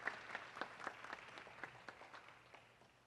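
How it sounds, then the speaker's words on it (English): Faint, distant applause from a forum audience for the moderators, a steady patter of many hands fading toward the end. "can you please give a hearty round of applause for our moderators today, Nina and Mark"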